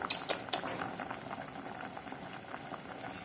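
Thai cassia leaf curry (kaeng khi lek) boiling in a pot over a stove in Udon Thani: a steady, soft bubbling and popping throughout, with a few sharp metallic clinks near the start.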